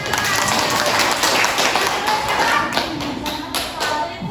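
A high school classroom of students applauds, a loud, dense burst of many hands clapping nearby with some thumps and a few young voices mixed in.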